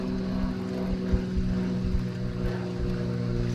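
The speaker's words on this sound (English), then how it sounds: "A lot of commotion in the air from that plane." A propeller airplane drones steadily overhead above water during buzzbait fishing, a continuous loud engine hum with no talking.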